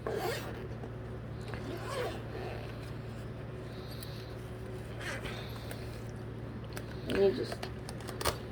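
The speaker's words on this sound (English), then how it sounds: "Unzip the top." A zipper is opened along the top of a TPN bag: soft, faint rasping pulls in a quiet room, with people talking nearby.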